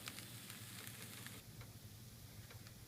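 Soyrizo and tofu sauté in a pan with a faint, steady sizzle and light crackle, heard quietly from a distance with no talking.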